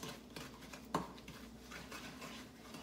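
Oatmeal raisin pecan cookie dough being stirred with a large wooden spoon, giving soft scraping and clinking against the bowl, with one sharper knock near the start, steady and close.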